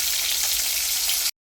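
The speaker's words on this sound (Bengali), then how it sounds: "মাছ ভাজা হয়ে গেছে" Bhola fish fries in hot oil in a pan on an induction cooker, a loud, close, dense sizzle that runs for just over a second and then cuts to silence.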